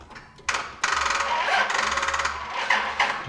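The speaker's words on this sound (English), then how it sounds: "Definitely is not cranking, but it's making all kinds of funny noises." A faulty car starter whirs and grinds loudly when cranked, with no engine catching, in a steady mechanical buzz broken by a couple of short bursts near the start.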